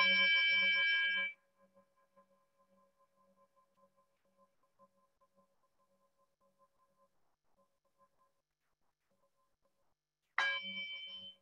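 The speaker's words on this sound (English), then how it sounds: "just see what it's like to just follow the sound of the bell" A meditation bell rings in a quiet room, its long tone fading slowly across the silence before a second strike sounds near the end. No voices are heard.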